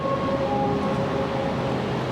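Train to Vang Vieng, Laos, heard while passengers board: a steady, continuous rumble of the rail carriage and station with faint tonal hums, even and unbroken throughout, no clear talk.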